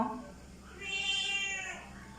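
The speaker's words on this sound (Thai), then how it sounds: "นี่คือแมวที่บ้านนี้ มันร้องอ้ออยากเข้ากล้อง" A household cat lets out a single drawn-out meow that swells in the middle and then fades, heard nearby with no talking over it.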